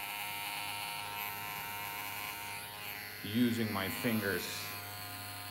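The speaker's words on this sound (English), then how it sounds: "I kind of pull the clipper" Electric hair clipper buzzing steadily through a flattop haircut, a continuous close hum that runs the whole time while someone talks over it partway through.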